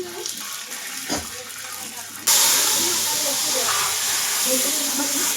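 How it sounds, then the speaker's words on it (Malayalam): Mustard seeds, with fenugreek, hit hot oil in a pan and break into a sudden loud, steady sizzling hiss that continues to the end, following a quieter stretch with faint kitchen sounds. "അടുത്ത കടുക് ഇട്ടു, കടുക് പൊട്ടി"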